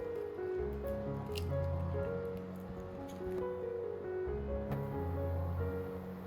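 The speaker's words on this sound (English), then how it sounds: "Once the water is simmering, carefully slide each egg into the pan." Eggs slide gently into a pan of simmering water, producing soft wet squishes and drips over a steady bubbling background, close and moderately loud, with no talking.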